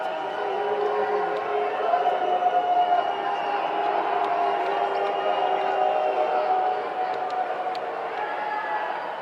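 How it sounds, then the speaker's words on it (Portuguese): A large crowd in Chile boos Dilma with a sustained, dense roar of voices and jeers that holds steady and loud throughout, heard from within the crowd. "Dilma foi até o Chile nessa segunda-feira e foi vaiado."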